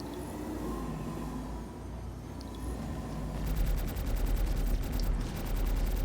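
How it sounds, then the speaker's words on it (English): Spaceship gunfire in the Star Citizen video game: a steady low engine rumble, then about halfway through a rapid regular stream of automatic shots that continues to the end over the drone, with no talk. "A few more shots ought to do it."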